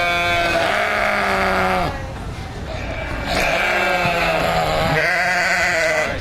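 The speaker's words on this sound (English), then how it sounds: "whatever you call that noise that the goat makes" Goat bleats edited together in audio software, several long wavering cries in close succession with a brief quieter gap around the middle, loud and close with no other sounds.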